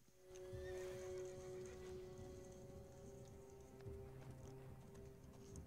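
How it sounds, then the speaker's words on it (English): A horse in Assassin's Creed Origins whinnies loudly and at length with a sustained tonal call, over a busy game soundscape of low rumbling and scattered clatter. "Gotta call your horse for assistance."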